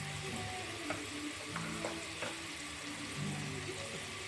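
Onions and green chillies frying with a pinch of turmeric for egg rice; a quiet, steady sizzle with a few soft stirring taps, fairly faint and without speech.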